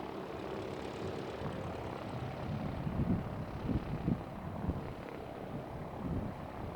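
The N620LG blimp flies by at Hayward Executive Airport, its propeller engines giving a faint, low, droning hum that rises slightly mid-pass, partly buffeted by wind noise on the microphone.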